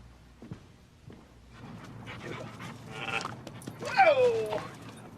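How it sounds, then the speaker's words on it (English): A male pup in a 1994 film scene whines and gives a rising yelp near the end, with panting-like sounds before it. The sounds are close and moderately loud, and people talk quietly around them. "Whoa! Good doggy."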